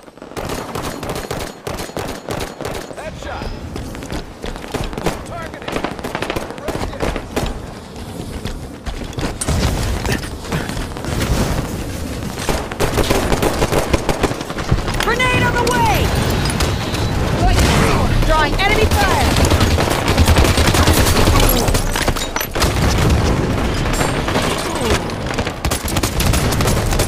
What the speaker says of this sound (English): There's a shotgun blast!